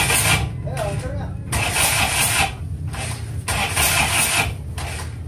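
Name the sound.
engine being started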